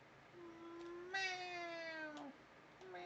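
A cat meows in a single long, drawn-out call that rises and then slides down, followed by a shorter meow starting at the end, close and fairly loud against a quiet room.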